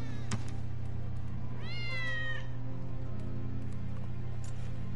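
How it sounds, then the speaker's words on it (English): A cat meows once in the video game Final Fantasy VII Remake, a single drawn-out mid-volume meow over a steady low game ambience hum. "Hear that? The cat."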